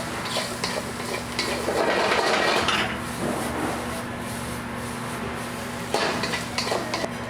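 Eggs and other ingredients being stirred in a pan on a Colombian restaurant line, with scraping and clinking of utensils over a steady sizzle and a low kitchen hum, moderately loud and close, no talking.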